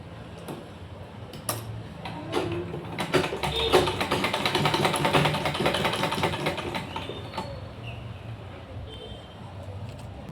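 A sewing machine stitches a blouse, running in a steady rapid ticking burst that swells in the middle and eases off, fairly close, with faint background noise around it.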